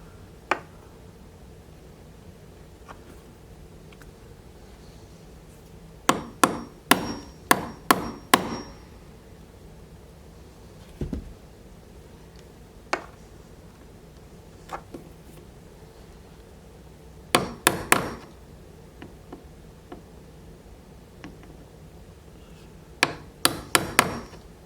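Sharp hammer taps on a chisel cutting a square recess for a door striker plate, in bursts of rapid strikes separated by pauses, close and fairly loud with no talking.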